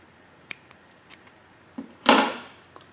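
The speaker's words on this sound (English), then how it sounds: "You cut your yarn." Scissors snip through yarn during crochet work, with a few small clicks leading up to one loud, close crunching cut lasting a fraction of a second.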